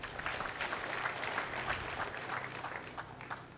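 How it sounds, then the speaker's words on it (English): An audience claps steadily and fairly softly for the whole stretch, with no voices over it, at an education and leadership congress. "You can clap for them again."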